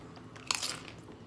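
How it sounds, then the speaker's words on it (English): Someone bites into a spicy Mexican Doritos tortilla chip: one loud, close crunch that crackles briefly and then fades, with no talking. "I love the crispiness of this chip."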